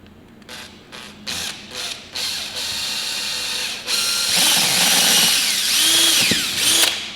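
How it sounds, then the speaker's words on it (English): A power drill whirring close up in several short bursts, then one longer sustained run as it bores through material. "Then we're just going to drill a little hole right here."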